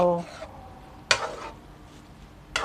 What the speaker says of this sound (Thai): คนซะหน่อยนึงให้มันหอมใบกะเพรา